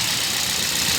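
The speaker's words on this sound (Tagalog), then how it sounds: "May galit na yung makina." 2013 Toyota Vios/Yaris engine idling roughly with a misfire, a loud, steady, uneven mechanical drone heard close up with no talking.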